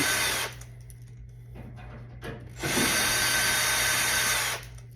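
DeWalt power drill backing screws out of a Harvest Right freeze dryer, with several short whirring bursts separated by pauses and a longer run near the end.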